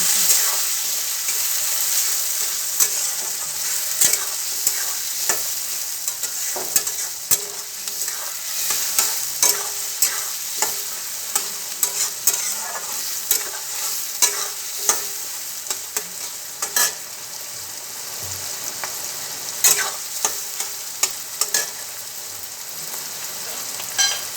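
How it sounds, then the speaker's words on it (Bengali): Chopped onion and green chilli frying steadily in hot oil for ghugni, a continuous bright sizzle broken by frequent scraping clicks of a spatula stirring the pan. "পেঁয়াজ আর কাঁচা লঙ্কা কুচানোটাও দিয়ে দিচ্ছি দিয়ে এটাকে ভালো করে ফ্রাই করে নেব লাল লাল করে ভেজে নেব"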